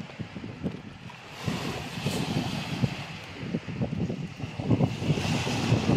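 Steady wind rushes and buffets the microphone at Sabang West beach in Bugasong, Antique, Philippines, at midday, with surf rumbling underneath and gusts growing stronger toward the end.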